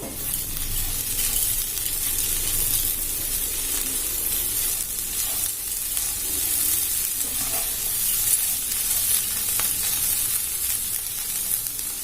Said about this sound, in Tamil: சேர்த்து நல்லா கிளறிக்கணும்